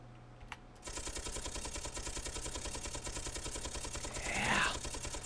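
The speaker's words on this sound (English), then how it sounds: "I can fire four of these things, and then while it's reloading, I can switch to the Gatling turret and just take them down" A Gatling turret firing in the game Space Engineers, a steady rapid mechanical rattle of shots that runs without pause after a brief quiet start, fairly faint and even, with a rising whine near the end.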